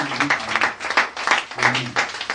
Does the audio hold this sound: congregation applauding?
yes